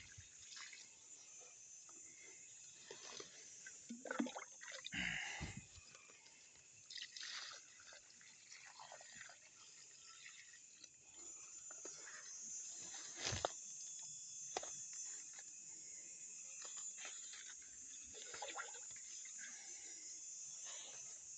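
Water pours and trickles softly and unevenly onto squash plants in a garden, with occasional splashes and light rustling, fairly quiet throughout.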